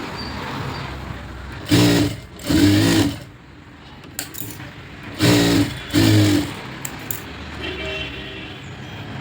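A sewing machine runs in four bursts of stitching, two close together then a pause and two more, sewing an armhole dart on a blouse; loud and near, with quiet handling between runs.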